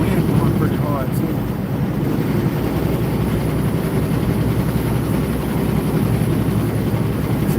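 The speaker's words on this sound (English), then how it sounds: "Wind going pretty hard too." Strong wind buffets the microphone in a steady low roar around a vehicle on the road, with broadband rumble and gusting noise filling the whole stretch without letup.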